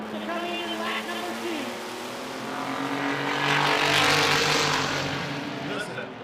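Race trucks roar past on an oval track at a season-opening feature race, engines swelling loud as they approach and fading away, with a commentator talking over the noise.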